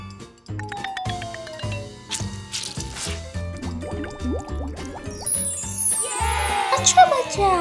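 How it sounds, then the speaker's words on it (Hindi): Water runs and splashes at a tap during handwashing before a meal, with irregular drips and pours alongside clinks and light tinkling noises, close up. "पहले अपने हाथ धो लो।"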